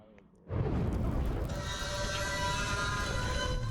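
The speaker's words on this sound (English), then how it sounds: "Careful, the explosions." A heavy boom erupts in a video game firefight, followed by a sustained roaring rumble of explosions and artillery that stays loud and dense to the end.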